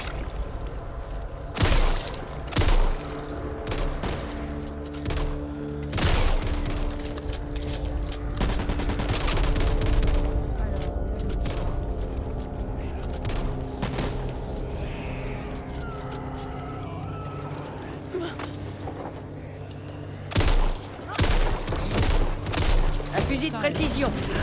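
Gunfire rings out in the zombie shooter game Back 4 Blood, with sharp loud shots scattered across the scene, some in quick clusters, over busy game noise and voices talking.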